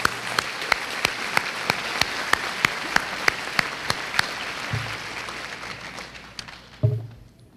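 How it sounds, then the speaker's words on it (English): Audience applause at the RHS 2016 high school graduation: a dense wash of clapping with sharp individual claps standing out at a steady beat, thinning toward the end with a couple of low thumps. "Let's give them a big round of applause and thank you for your years of service."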